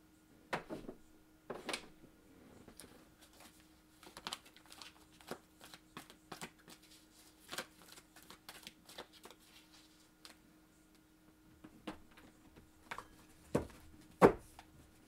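Oracle cards being shuffled and handled produce a string of soft, quick riffles and taps, close and quiet, scattered irregularly with a few sharper snaps near the end and no speech.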